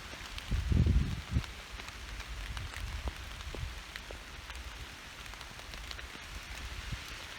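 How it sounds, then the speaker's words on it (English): Rain falls on a hiking trail, a steady soft patter of drops on leaves and ground, with a heavier thump early on and scattered distinct drips throughout, no talking. "It's raining on the trail."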